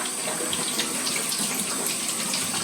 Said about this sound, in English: Just gonna rinse them off